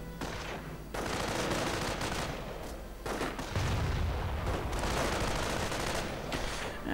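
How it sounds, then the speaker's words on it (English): In a real-time strategy war game, a machine gun rattles and mortar rounds burst, with dense continuous gunfire and booms throughout, loud and busy with no talk. "The MG though opening up and doing quite a bit of nice damage to the riflemen, tearing through them"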